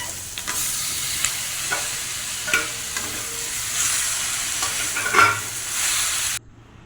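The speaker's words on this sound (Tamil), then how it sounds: "வெங்காயத்தையும் வரமிளகாயும் போட்டு தாளிச்சிட்டு" Onions and dried red chillies tempered in hot oil for a fish curry, a soft continuous sizzle with intermittent scraping stirs, close and alone without speech.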